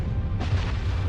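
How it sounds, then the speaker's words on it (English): A supernova explosion sound effect gives a deep, sustained rumbling boom with a swell of broadband roar partway through, loud and continuous with no voices. "kicking off one of the most massive explosions in our universe since the Big Bang"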